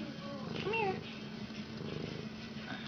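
A house cat close by gives a short rising meow early on, then stays quiet under a steady low background hum.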